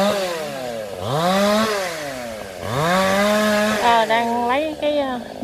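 A chainsaw cuts branches of a large Sao tree in stormy, rainy weather, the close engine revving up and down in repeated swooping surges of whining pitch.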